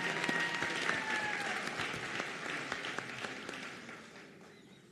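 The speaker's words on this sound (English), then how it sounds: "a round of applause for this great group of graduates here" Applause from a graduation ceremony audience for a group of nursing graduates in a large hall, steady dense clapping that slowly thins and fades toward the end.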